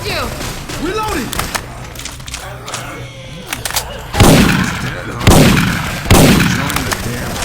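Syphon Filter weapon sound effects fire in a Left 4 Dead 2 game: scattered gunshots, then three loud booming blasts with long decaying tails, over game ambience and faint voices.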